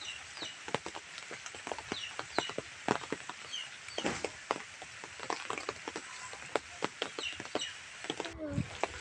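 Village desi chickens cluck intermittently close by, with scattered sharp tapping sounds throughout and a brief low thud near the end.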